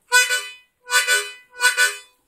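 A harmonica plays three separate draw notes on the fourth hole, each a light, regular 'wata' inhale shaped by the mouth, clear and close with short pauses between.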